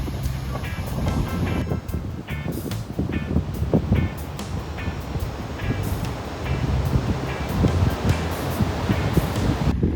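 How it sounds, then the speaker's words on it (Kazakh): Waves lapping on a lake shore on a windy early morning, a continuous rushing wash with gusts of wind noise buffeting the microphone and no talk. "Мына толқындарды қараңдар"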